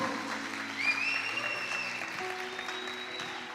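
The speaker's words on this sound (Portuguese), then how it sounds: "Pode aplaudir o Senhor." A church congregation applauding during a worship service, a steady wash of clapping from a room full of people.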